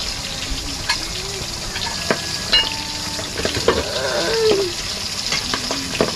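Ginataan of kandoli fish with turmeric simmering in a pot, a steady close sizzle and bubbling with scattered small pops and crackles, occasional liquid stirring, and festive New Year firecrackers faintly in the background.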